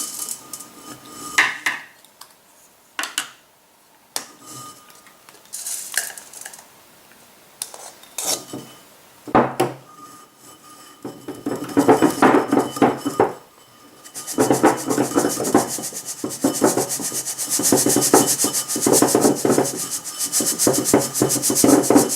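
A flour mixture of ground rice and almonds is worked through a filter, giving scattered rubbing and scraping strokes that turn into dense, continuous gritty rasping in the second half, with no voices.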